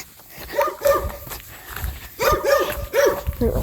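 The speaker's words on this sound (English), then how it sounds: "Oh my god, those dogs." Several dogs bark in repeated bursts along a street, loud and fairly close, with footsteps and background noise between the barks.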